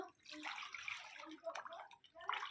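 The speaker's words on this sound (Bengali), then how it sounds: "চলো একটু জল ঘেঁটে নিই" Hands slosh and stir through floodwater around a submerged home, producing faint, close splashing and trickling sounds in short irregular bursts.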